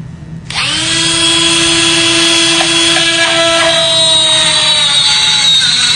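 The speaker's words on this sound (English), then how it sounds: "So the drill is just actually creating another shear line. And you can see how easy that's going through this profile cylinder from Europe." A power drill bores through a European profile lock cylinder, starting with a brief spin-up and then a loud, steady high-pitched whine and grinding chatter as the bit cuts metal, continuous and close.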